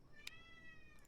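A pet male cat gives one short, faint meow, a brief tonal cry with small clicks just before and after in a quiet room.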